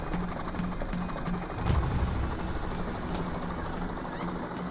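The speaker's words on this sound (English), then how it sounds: "Helicopter's on the roof." A helicopter hovers on a rooftop during a bank heist in the video game Payday, giving a steady whirring engine drone with a low rotor pulse. A thump stands out briefly partway through, and the drone stays even with no talk.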